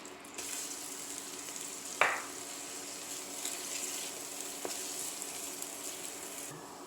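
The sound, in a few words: onion cooking in melted butter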